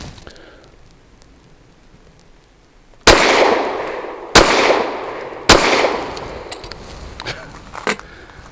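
Three sharp, loud pistol reports from a Grand Power Q100 Mk23 firing Fort Scott Munitions tumble-upon-impact rounds, likely 115 grain, spaced over about two and a half seconds, each with a ringing decay, followed by fainter metallic clinks.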